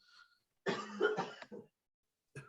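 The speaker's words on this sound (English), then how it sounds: "I hear coughing." A couple of close coughs and throat-clearing bursts, rough and brief, with a faint sound before and a short cough at the end.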